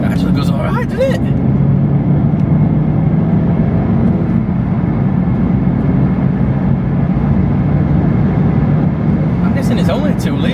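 A BMW 4 Series F32 with a 2-litre engine and upgraded exhaust accelerates hard in a sustained, loud, low drone heard from close by, with brief noises at the start and end.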